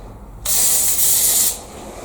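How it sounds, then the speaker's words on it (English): A single steady hiss of oven cleaner sprayed from an aerosol onto a rust-stained bathtub, lasting about a second, close and loud, then stopping. "I'm going to do a quick spray, one tiny area."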